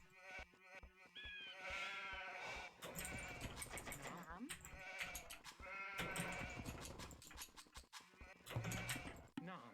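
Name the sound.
sheep bleating in video game Age of Empires II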